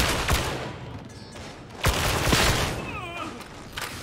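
Headshot sound effects in Warhammer 40k: Darktide, with a Veteran Sharpshooter firing: sharp cracking shots and impacts over a dense, noisy combat din, a few distinct hits standing out.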